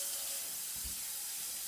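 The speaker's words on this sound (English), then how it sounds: "Give it a quick rinse" Cold kitchen tap water runs steadily over a piece of pancetta being rinsed in the sink, a constant hiss of flowing water with a brief low thump partway through.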